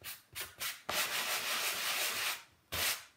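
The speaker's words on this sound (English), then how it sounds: "So I have an old sanding block, and I'm going to start with the finer side." An old sanding block's finer side rubs over milk-painted wood in a few short strokes followed by a longer steady scrub and one last stroke, close and soft.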